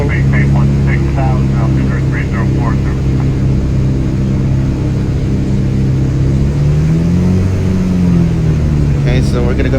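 Steady, loud piston engine drone of a Cirrus SR22 in the X-Plane flight simulator as the plane begins taxiing, holding a constant hum with a slight rise in pitch, while a person talks over it.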